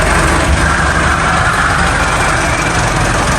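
A tractor engine idling loudly and steadily up close during setup work, a constant low rumble with broad noise and no voices over it.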